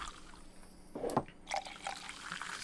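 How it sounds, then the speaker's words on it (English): Ale pours from a tap into a mug in a tavern management video game, a short liquid gush that swells and then trickles off. The pour is fairly quiet and plays with no talk over it. "Just go pour a bunch of ale."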